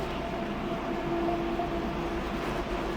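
A car, a BMW Z4 on a European road trip, rolls onto a train shuttle car, with a steady rumbling interior drone and a faint tonal hum throughout, moderately loud and continuous with no talk.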